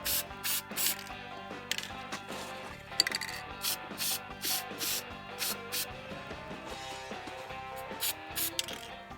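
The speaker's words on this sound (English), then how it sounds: "you're just gonna spray like around here." Dirt bike air filter cleaner sprays onto the air filter in a long run of short, quiet hissing bursts at a fairly even rhythm, with no voices.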